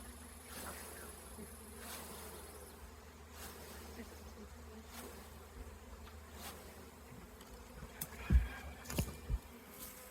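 Honeybees drone in a continuous buzz while being installed into a beehive, with individual bees passing close by now and then and a few louder bumps near the end.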